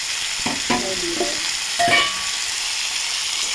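Boiled soybean chunks and potato fry in a pan with chilli, tomato and onion, a continuous sizzle broken by a few clattering stirs of the spatula, close up and with no talking.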